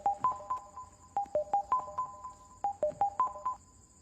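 A telephone sounds as a call goes through: groups of short, bright electronic tones repeat in a quick melodic pattern for about three and a half seconds, then stop, with no voices.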